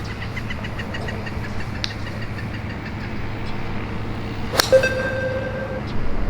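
A golf ball is struck with a club during a launch monitor session, a single sharp impact click rising out of steady background hum, followed by a ringing electronic beep.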